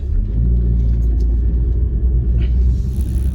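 A car moving at speed, a steady loud low rumble of engine and road noise that holds without break for the whole stretch, with a faint lighter hiss rising near the end.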